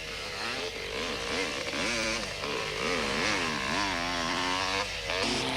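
Racing motorcycles at the 1988 Swazi Spa 500 endurance race scream past one after another, their high-pitched engines rising and falling in pitch as they go by, loud and continuous.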